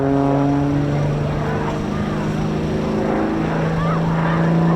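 A propeller aircraft flying a solo aerobatic display at the RAF Cosford air show, a steady loud droning engine note with wavering pitch, held close and continuous throughout.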